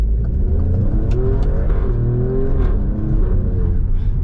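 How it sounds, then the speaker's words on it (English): An Alfa Romeo Stelvio Quadrifoglio with an 8-speed ZF gearbox accelerates hard, its engine note climbing loudly and steadily and then stepping down sharply at each thumping gear change, heard close and alone with no talk. "those gear changes are ferocious. They just thump gear after gear after gear."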